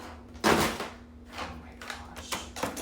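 A craft room drawer crammed with electronics and cords slides open with a scraping thump, followed by rummaging knocks; a woman briefly exclaims.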